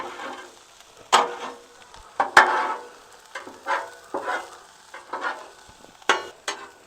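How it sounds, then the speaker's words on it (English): Onions and potatoes frying in a pan, a steady low sizzle broken by several sharp scrapes and clatters of a utensil stirring and turning the food, close and moderately loud, without talk. "Onions are cooking up really nicely."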